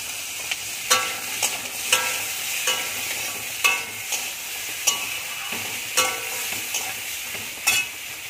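Vegetables fry in hot oil with panch phoron and a bay leaf, giving a steady close sizzle broken by a spoon's periodic scraping stirs in the pan.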